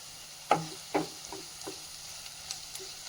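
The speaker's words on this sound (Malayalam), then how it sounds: "ഇത് മൂന്നും കൂടെ നമുക്ക് നല്ലതുപോലെ ഒന്ന് ഇളക്കി യോജിപ്പിക്കുന്നത്." A spoon scrapes through onions frying with garam masala in a pan, giving a few soft stirring strokes over a faint, quiet sizzle, with no talk.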